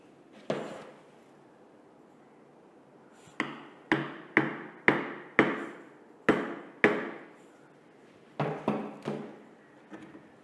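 A plastic or wood wedge is driven with a hammer at the back of a shaft coupling during rim-and-face alignment. Two isolated knocks come first, then a quick run of about seven sharp, close blows, followed by a few more after a short pause.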